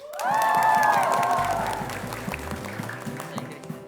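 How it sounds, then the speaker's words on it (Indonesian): Three teams in a televised school quiz show studio clap and cheer, a lively burst of applause that rises over fading music and tapers off quickly. "Saya mau dengar tepuk tangan yang lebih semangat lagi dari ketiga regu"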